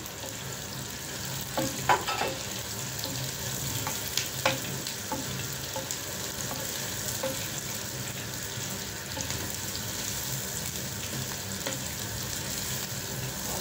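Beef meatballs fry with onions in a pan for sweet and sour meatballs, giving a steady close sizzle with occasional sharp clinks and scrapes of stirring and no voices.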